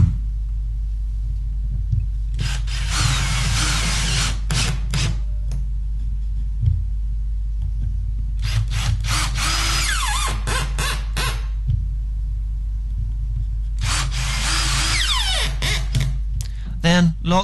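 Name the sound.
power drill driving 4x30mm wood screws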